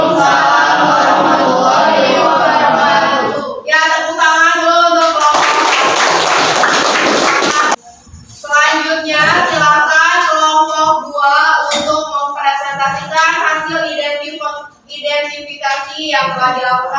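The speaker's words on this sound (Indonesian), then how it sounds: "tepuk tangan dulu untuk kelompok" A group of students in a classroom gets a short burst of applause, about two and a half seconds of dense clapping that breaks in between stretches of loud, tonal voices.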